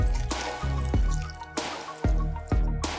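Water flows from a hanging bottle through a straw, dripping in a steady, close sequence of soft wet plops and squishy trickles, each drop distinct and fairly loud against an otherwise quiet background.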